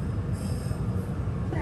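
A Meitetsu train running into Meitetsu Ichinomiya gives a heavy, continuous low rumble with a faint metallic squeal of wheels on the rails rising near the end.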